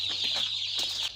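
Agric chicks in a brooding cage cheep in a continuous, high, shrill chorus, close and fairly loud, with no talking.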